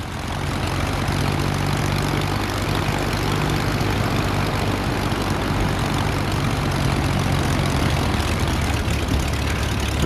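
A propeller aircraft engine runs up in the Prepar3D flight simulator game, producing a loud, continuous droning roar that holds steady for the whole stretch.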